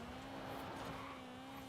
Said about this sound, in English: Standard car number 8 is a 2002 Turbo. Excellent sounds- BMW.